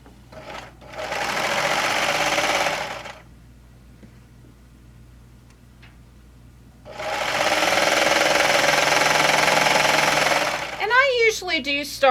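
Serger stitching a knit shirt from cuff to hem: two long, steady runs of loud, dense motor chatter separated by a quiet pause, with a short voice at the end.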